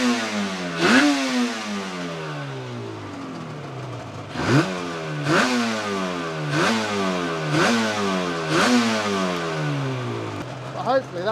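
A Yamaha RD500 motorcycle engine, carburettors freshly balanced and set to idle at 1250 rpm, ticks over close by. About five sharp throttle blips rise and fall over the steady idle.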